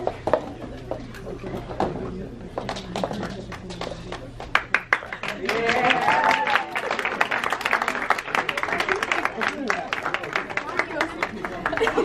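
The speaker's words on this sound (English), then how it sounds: "Everybody clap your hands!" Party guests at a graduation celebration clap their hands together in a loud, dense burst that builds and carries on steadily, with voices and cheering mixed in among the claps.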